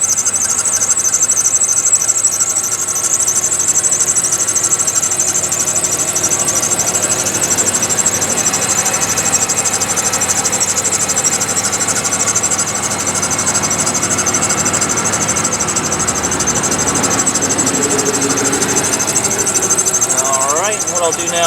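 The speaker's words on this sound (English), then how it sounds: "I'm going to be quiet now and let you listen to the motor here" A 1999 Plymouth Voyager's 3.3 liter V6 idling close up with the hood open, a steady engine drone with a high-pitched belt-like whine running throughout.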